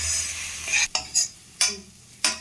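Onions frying in oil for an Andhra-style palak onion curry, a steady close sizzle broken by four sharp scraping stirs of a spoon against the pan.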